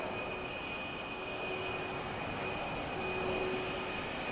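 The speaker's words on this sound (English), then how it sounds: "The aircraft is now positioning for doing a 270 degrees left roll to turn right." A HAL HTT-40 propeller trainer aircraft flies aerobatics at an air show in India, a steady engine drone at moderate distance, faint but continuous, with a thin sustained tone running through it and no speech.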